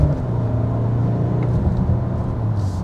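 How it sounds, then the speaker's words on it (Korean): An SUV engine droning and building as it accelerates, a low steady rumble heard from inside the vehicle, with no talking. "엔진 소리군요."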